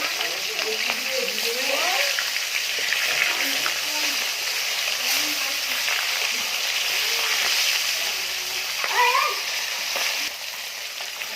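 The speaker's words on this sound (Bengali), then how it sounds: "বাকি মাছগুলো আমার ভাজা হয়ে গেছে, এবার তুলে নেবো।" Catla fish fries in a pan of hot oil, giving a steady close crackling sizzle with light spattering, while a faint voice murmurs in the background.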